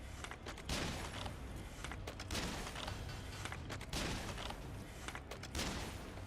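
Cannon firing in the video game Nioh, heavy booming shots repeating about every one and a half seconds against dense, noisy game sound, with no talk over them.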